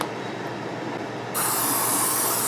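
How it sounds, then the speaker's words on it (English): Crisco cooking spray hisses from a can into a bowl in a kitchen, a steady close airy spray that grows louder and brighter partway through, with no talking. "I'm going to spray a little bit of this Crisco stuff inside here."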